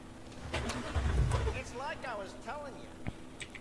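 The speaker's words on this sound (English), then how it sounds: "Start your engine." A car engine cranks and turns over in the video game Cyberpunk 2077, a brief low rumble rising near the start, with a game character talking over and after it.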